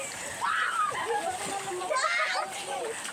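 A child splashes through flood water, with repeated sloshing and splattering close by, while adults talk and call out over it.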